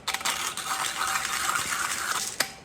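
A coffee grinder grinds beans, a continuous close rattling, gritty whir for a few seconds with a sharp clack near the end.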